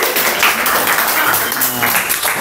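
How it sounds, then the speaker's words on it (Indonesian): Classmates clap for a student group after its presentation in a classroom, a steady patter of hands lasting the whole moment, with voices mixed in. "Tepuk tangan untuk kelompok 2"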